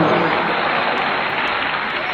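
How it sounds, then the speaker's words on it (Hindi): An audience applauds at a patriotic poetry recital, a dense, loud wash of clapping hands that stays steady and close for a couple of seconds. "दोनों हाथ से तालियां बजाओ"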